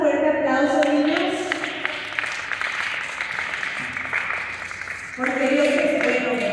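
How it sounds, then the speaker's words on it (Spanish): Children at a church lesson giving loud applause, sustained clapping that fades midway and then swells again, with voices and music-like tones mixed in. "Pues vamos a dar un fuerte aplauso, niños."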